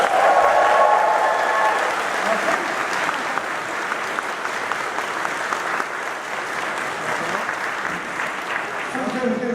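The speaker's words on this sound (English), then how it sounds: "Give them a round of applause." Audience applause at the AmeCon 2018 convention closing ceremony: a large crowd clapping steadily and loudly for the full stretch, with occasional cheers mixed in and no speech over it.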